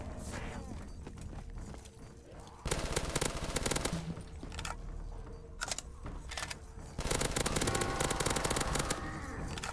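Type 100 submachine gun fire in Call of Duty Zombies, loud rapid automatic bursts in several stretches separated by quieter game noise and mechanical clicks.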